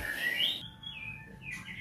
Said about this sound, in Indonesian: trotoaran cucak rowo usia 3 minggu